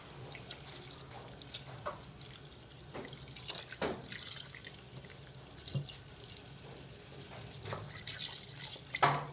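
Water running softly from a kitchen tap while mung beans soak with onion and garlic, a faint steady trickle with occasional splashes and drips in a quiet room.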